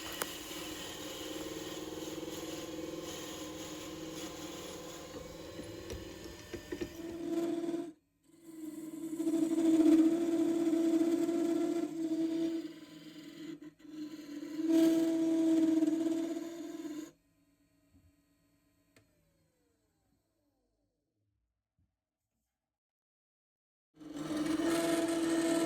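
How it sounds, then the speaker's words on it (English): A wood lathe hollowing out a beehive base plug, with a steady whirring hum broken by bursts of scraping tool contact, then a long stretch of silence before the lathe resumes. "when we start hollowing it out using the lathe"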